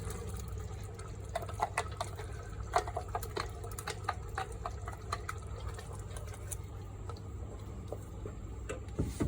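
A pot of liquid for methi kapnya comes to a small boil, giving a steady low bubbling with scattered close pops and ticks throughout and no one talking.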